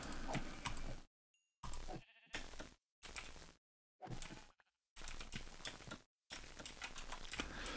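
Minecraft sheep bleat in short repeated bursts, several in a row, separated by abrupt silent gaps, with keyboard tapping mixed in and no one talking.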